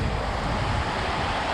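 Fast-flowing river swollen after Storm Dennis, heard from a bridge in Midhurst as a loud, steady broadband rush of water mixed with wind buffeting the microphone.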